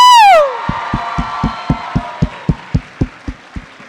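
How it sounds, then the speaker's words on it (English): At a comic convention cosplay contest, a loud whooping voice sweeps downward and fades, then steady rhythmic clapping follows, about four claps a second, sharp and fairly close, slowly thinning out. "And one more round of applause for Harley."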